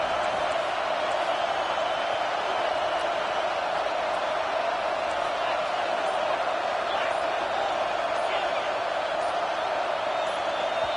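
A packed football stadium crowd roars continuously at a steady, loud level, a dense wall of noise with no breaks throughout.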